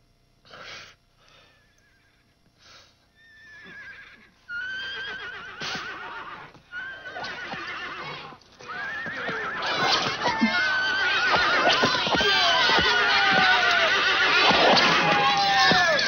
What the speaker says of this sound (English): Daddy, why did they kill the poor horse?